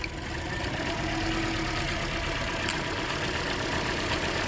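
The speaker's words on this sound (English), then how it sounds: "she needs an ignition coil to take care of her misfire problem" Car engine idling roughly with a misfire from a faulty ignition coil, a steady close rumble with uneven knocking pulses running throughout, no voices.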